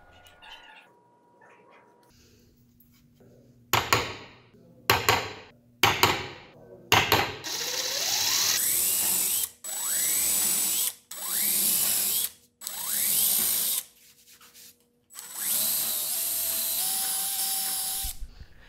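A ratchet works bolts and nylock nuts on an arcade cabinet control panel: several sharp separate clicks first, then longer loud bursts of fast ratcheting, close and without talk.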